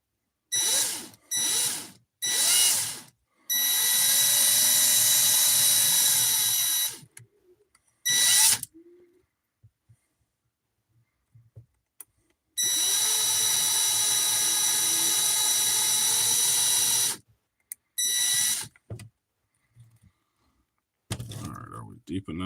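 A power drill whirs in two long, steady runs with short bursts around them, loud and close, and brief pauses of silence between.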